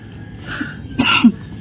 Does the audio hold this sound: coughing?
yes